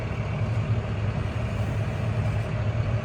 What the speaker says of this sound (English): I lowered the RPMs. I'm gonna bring it down to, we're basically an A1 at idle